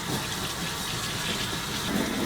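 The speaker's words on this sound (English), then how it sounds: "You want to make sure that you get all the little coconut granules rinsed off of her." Running water from a tap pours steadily over a dog to rinse coconut granule scrub from her coat, a continuous close splashing gush with no voices.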